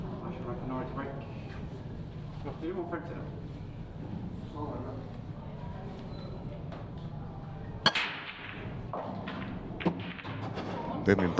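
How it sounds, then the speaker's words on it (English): Pool break shot in a doubles match: a sharp crack of the cue ball into the rack partway through, followed by a brief scatter of clacking balls, heard under steady commentary and background crowd murmur. "Booming break. Oh, that 8-ball was close."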